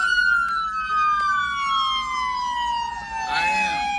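A police siren wails loudly and close, its rising and falling tone sweeping steadily over faint road noise for the whole stretch.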